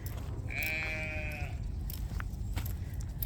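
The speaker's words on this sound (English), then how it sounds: "Can you hear the sheep? They're so hungry." A single drawn-out sheep bleat rises over a low rumbling background, followed by a few faint clicks and knocks.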